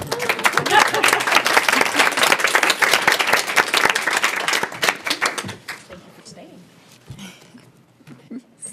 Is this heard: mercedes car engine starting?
no